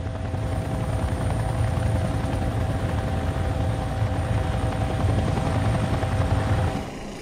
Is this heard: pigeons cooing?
no